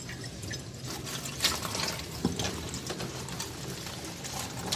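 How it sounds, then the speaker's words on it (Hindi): Water splashes and trickles as a container is rinsed out indoors in a home kitchen, irregular drips and pours with a couple of sharper knocks, no speech. "वॉश करती हूँ एक दफ़ा अंदर से।"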